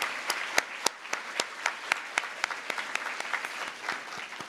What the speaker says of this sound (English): We need to give them a big round of applause for all of the work that they do.